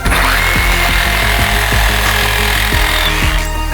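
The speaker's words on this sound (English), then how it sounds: "This is a brushless recip saw" A brushless HiKOKI reciprocating saw cuts through wood with a steady, loud motor whine and a rapid rasping rhythm, close up and continuous.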